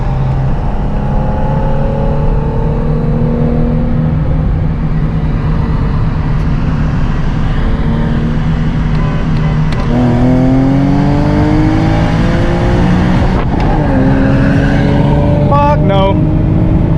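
Infiniti G37 running E85 racing a Honda Civic Type R, heard from inside as a loud droning engine rises in pitch through several gear changes, with a hard upshift and revving surge toward the end.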